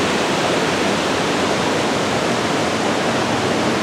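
River water rushing steadily over rocks and logs in Umpqua National Forest, a loud, dense, continuous roar close by with no pauses or voices.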